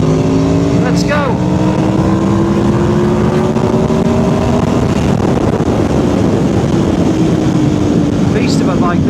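A 2011 Aprilia Tuono V4R motorcycle ridden on the road, its V4 engine revving up through rising pitch sweeps, loud and close under rushing wind noise.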